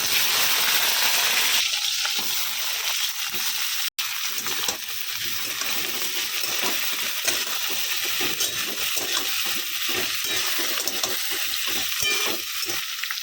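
Eggplant pieces fry in hot oil in a kadai with a continuous loud sizzle, while a spatula stirs with repeated scraping strokes throughout.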